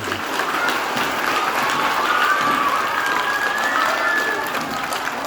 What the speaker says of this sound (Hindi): स्वागत ताली बजा